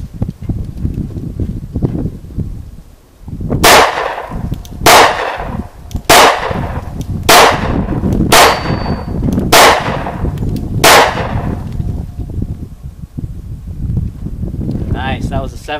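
Seven sharp pistol shots from a Springfield V10 Ultra Compact 1911 at a firing range, fired at a steady pace about one per second, loud and close, with talk before and after the string.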